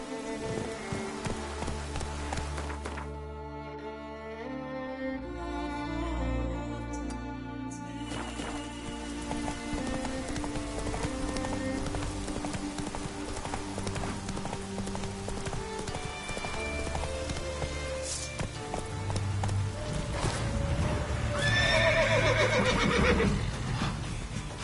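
A horse in The Witcher 3 gallops with steady clip-clop hoofbeats and lets out a loud whinny, with tonal game sounds running underneath throughout.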